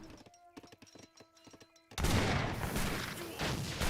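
Musketeer volleys and grenade blasts in the Age of Empires 3 battle, first as scattered sharp cracks, then a sudden loud dense burst of gunfire and explosions that keeps going to the end.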